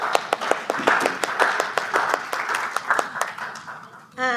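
An audience applauds a group of named volunteers with brisk, steady clapping from a small crowd, close and fairly loud, before a voice begins speaking at the very end.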